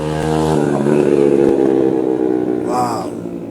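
A motorbike engine roars past close by, a loud, steady droning hum whose pitch wavers before a brief rising whine near the end.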